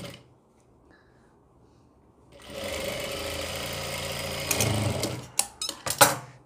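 After a quiet start, a sewing machine runs steadily while stitching piping along the neckline of a gown, heard up close, then breaks into short uneven bursts and clicks as the stitching stops and starts.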